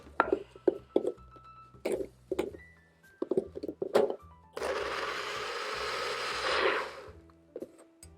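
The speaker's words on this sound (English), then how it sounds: "I'm gonna quickly blend this so there's, you know, not really many date chunks left" A blender whirs through dates for a vegan ratatouille sauce, one loud steady burst of about two and a half seconds, with knocks and clatter before and after.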